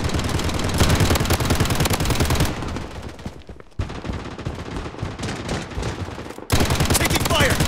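Rapid automatic gunfire in the shooter video game Project BloodStrike, loud and near, firing in long dense bursts with brief gaps between volleys.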